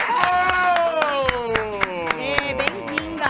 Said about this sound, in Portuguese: Eu quero aplausos para a nossa querida triatleta Raquel Weingarten.